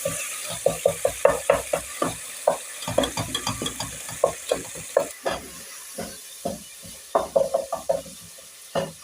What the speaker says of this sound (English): You have to cook the tomatoes really well.